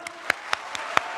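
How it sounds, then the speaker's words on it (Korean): Churchgoers at a Sunday afternoon worship service clapping hands in praise, six sharp rhythmic claps in unison, evenly spaced and close, with nothing else heard. "우리 찬양의 박수 올려드리겠습니다."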